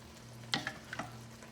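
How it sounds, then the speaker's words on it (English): A spoon scrapes a few times through mushroom and pea risotto in a pan, soft close strokes over a faint steady hum. "I continuously been adding broth and constantly stirring"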